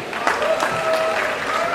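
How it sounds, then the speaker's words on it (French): Audience applause at a prize ceremony in Kinshasa, a steady, dense clapping that fills the room throughout, with occasional louder individual claps standing out. "On applaudit pour quelqu'un."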